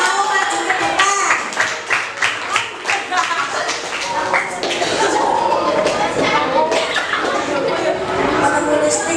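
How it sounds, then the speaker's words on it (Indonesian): Schoolchildren in a classroom clapping for a group, a burst of rhythmic claps followed by looser applause and chatter, with a teacher's voice over it. "Tepuk tangan anak-anak karena kelompok 2 sudah mau maju ke depan."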